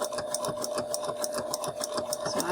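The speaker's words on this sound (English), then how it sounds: "And it's going to sew down the right hand side of my buttonhole." A computerized sewing machine stitches down one side of a buttonhole, a steady fast mechanical whir with a regular ticking needle rhythm, close and moderately loud with no talking.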